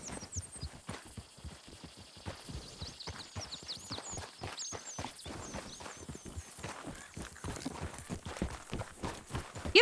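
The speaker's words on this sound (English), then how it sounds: "Nice steed." Horse hooves clip-clop in a steady trotting rhythm in the Western video game Red Dead Redemption 2, crisp close beats repeating for several seconds with faint game ambience and no talk.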